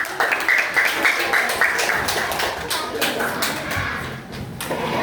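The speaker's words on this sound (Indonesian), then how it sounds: "Tepuk tangan dulu dong." Grade 4 schoolchildren clapping their hands together in a classroom, a steady flurry of overlapping claps with voices mixed in.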